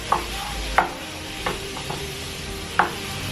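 A utensil scrapes and knocks against a pan of potatoes and minced garlic in a few irregular strokes over a soft steady sizzle, with no talking.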